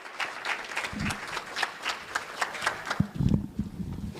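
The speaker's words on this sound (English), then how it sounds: "Let's give him a good hand clap before the CHPs come to appreciate them." Audience giving a hand clap at a community gathering, a soft, fairly distant patter of many hands with scattered heavier claps and a brief low voice murmur near the end.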